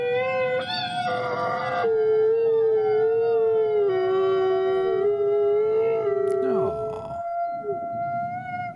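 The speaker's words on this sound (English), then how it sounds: "do you think howling of dogs sounds like music to them?" Several dogs howl together in long, wavering tones that overlap, rising and sliding in pitch, loud and close for several seconds before breaking off and briefly resuming.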